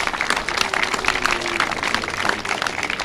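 A crowd at an outdoor community event for veterans gives a round of applause, a steady wash of many hands clapping at fairly close range, loud and continuous throughout.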